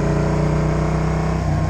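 A motorcycle engine drones steadily close by on a wet road, its throttle held open with a constant low rumble and no voices.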